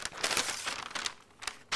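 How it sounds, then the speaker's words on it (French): Gift wrapping paper being torn open by hand at close range: a quick run of crisp crinkling rips in short bursts, with no talking. "je vais déchirer le papier cadeau."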